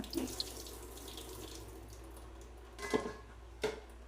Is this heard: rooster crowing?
no